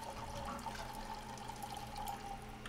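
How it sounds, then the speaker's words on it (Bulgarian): A tap runs steadily in Layers of Fear 2, a faint, continuous stream of flowing water with a soft hiss and no voices. "Я да си пуснем водата веднага."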